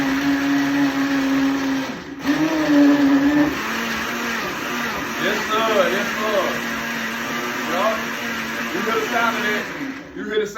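A blender whirs loudly and continuously while blending watermelon, its motor pitch shifting as the contents churn, with a brief cut near the start and some voices underneath.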